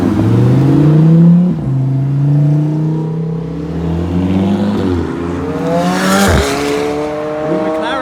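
A McLaren engine revs hard nearby, loud rising and falling whines that climb in pitch, dip, then surge again with a sharp roaring peak outdoors.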